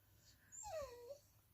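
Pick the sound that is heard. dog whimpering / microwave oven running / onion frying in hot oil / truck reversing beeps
dog whimpering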